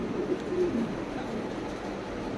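Blue shadel pigeons give a few soft, low coos close by over a steady background hum, with no clear talking.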